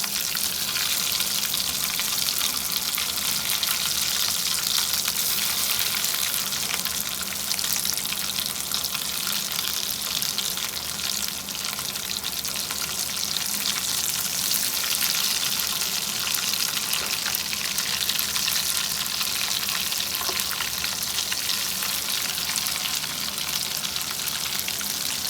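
Dahi bara lentil fritters deep-frying in oil, turned over partway through, give off a dense, steady bubbling roar that holds unbroken at the same level for the whole stretch, close by and with no one speaking.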